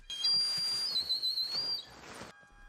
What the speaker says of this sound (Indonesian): suara peluit yang berarti tanda bahaya dibunyikan oleh Furiosa